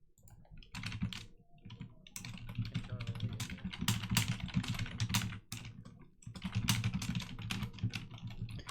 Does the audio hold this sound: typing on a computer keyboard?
yes